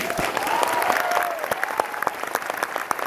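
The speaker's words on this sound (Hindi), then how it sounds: "जब अपने ताली बजाओ बढ़िया सी" Steady applause from a leadership training audience in Delhi fills the first half, then thins into scattered individual claps with a few loud close ones near the end.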